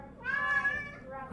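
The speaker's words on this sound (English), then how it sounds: "a cat screaming at me." A single loud, drawn-out meow from a nearby cat, rising and then trailing off in a whiny, insistent tone.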